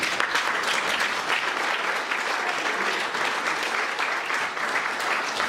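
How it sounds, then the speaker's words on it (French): Audience at a New Year's greetings ceremony in a French town hall applauds the sub-prefect, with dense, steady clapping from a full room throughout, loud and unbroken. "je vous propose qu'on applaudisse Monsieur le sous-préfet"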